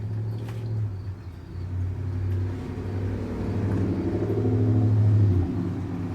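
A black truck drives past with a low engine rumble that swells and grows louder as it nears, then eases off at the end, with no talking.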